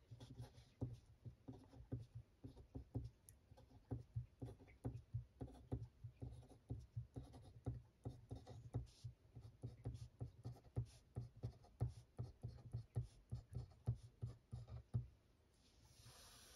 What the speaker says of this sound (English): So I'm just going to write down